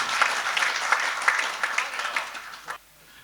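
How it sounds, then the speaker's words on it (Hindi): Strong, dense applause from an audience in a marriage hall welcoming a speaker at an evening gathering, steady for under three seconds, then cutting off into near silence. "तशरीफ लाइए, जोरदार तालियों से इस्तकबाल कीजिए।"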